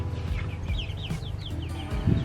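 Five-week-old chickens in a backyard run make soft, rising peeping chirps in quick succession over a low steady rumble, with a faint cluck near the end and no talk.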